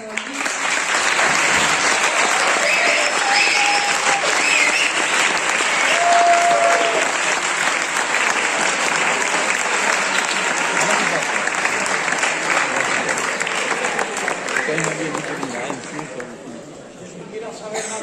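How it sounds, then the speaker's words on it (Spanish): A school gathering with Francisco Martínez, known as Quico, gives a long final round of applause for him, loud and continuous for most of the clip, thinning toward the end with some voices underneath. "un último aplauso para Kiko por haber estado aquí"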